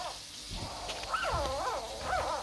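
Puppies on a rural seaside property in New Zealand whimper and whine in several rising and falling high-pitched cries, close by over faint background noise.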